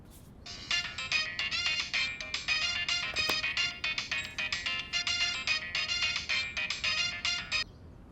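A mobile phone ringtone for an incoming call plays steadily for about seven seconds, a bright repeating melodic electronic pattern that is close and clear, with no talking over it.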